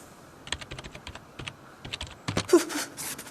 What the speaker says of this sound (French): rien qu'en tapotant sur mon clavier